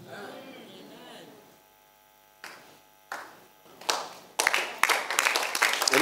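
Congregation clapping at a faith service, after a stretch of low hum and murmuring: a few separate loud claps, then building into dense, rapid, overlapping clapping that grows louder toward the end.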